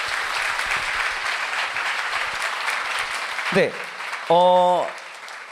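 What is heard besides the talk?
audience applause after a debate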